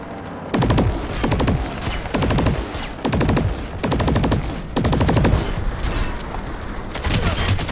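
Gunfire in Planetside 2: loud, close automatic bursts repeat roughly every second across the whole stretch, each a rapid rattle of shots with booming low ends.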